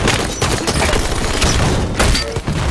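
Blasts and crunching impacts burst out in a Halo 5 multiplayer match as a grenade goes off among rapid gunfire, with several booming hits in close succession.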